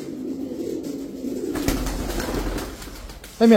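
Pigeons coo in low, rolling murmurs at moderate volume. A brief louder clatter comes at the very end.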